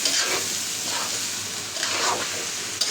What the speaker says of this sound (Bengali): চাল দেওয়ার পরে বারবার নাড়া দিয়ে দিবেন যাতে কড়াইয়ে না লেগে যায়।